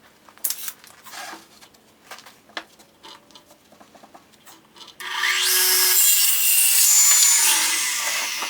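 1x4 wood boards being cut for an Adirondack chair: a few light taps and handling knocks first, then a loud, steady power saw whine that runs on to the end.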